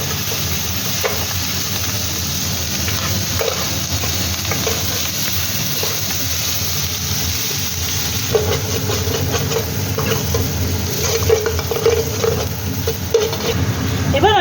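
Chowmein noodles are stir-fried with shredded cabbage in a hot pan at a street food stall, giving a steady, loud sizzle with hissing steam throughout. Scraping stirs and spatula clinks break in now and then, with faint voices in the background.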